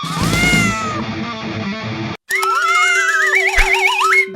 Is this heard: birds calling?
no